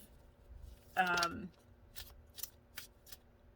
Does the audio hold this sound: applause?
no